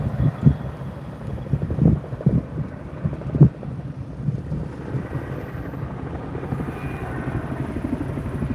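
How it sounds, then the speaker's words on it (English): A twin-rotor Chinook helicopter flies over a 75-plus acre wildfire near Los Lunas, a loud, close, continuous rotor rumble thick with wind buffeting and a few heavier thumps early on, with no talking. "what model of copter is that? Is that a modified Chinook?"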